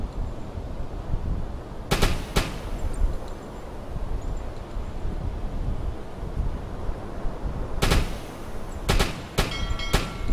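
Flak cannon firing at aircraft in the U-boat game Uboat 121, heard as sharp bursts around the two-second mark and a rapid cluster near the end, over a constant windy rumble.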